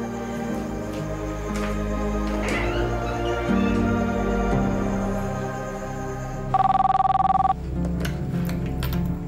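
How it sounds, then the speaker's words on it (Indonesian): A telephone rings with a sharp, steady electronic tone for about a second near the end, loud against a busy layer of background music. "Coba kamu telepon dia sekarang ya."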